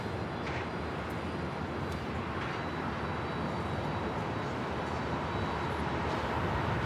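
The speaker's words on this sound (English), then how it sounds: "We have a United Dreamliner now rolling." A United Airlines Boeing Dreamliner rolls for takeoff at LAX, a steady broadband jet roar that holds constant and slowly swells, heard from a distance with no talking.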